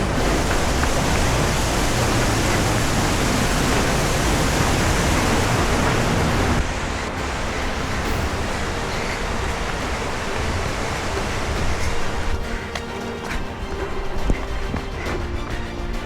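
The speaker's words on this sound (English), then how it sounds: "And yet another waterfall, Fairy Falls, we crossed in front of it on this bridge down below." Fairy Falls, a waterfall in Oregon's Columbia River Gorge, passed by a bridge on a 100k trail race, gives a steady, full-bodied roar of rushing water that is louder at first, then drops to a softer, even rush.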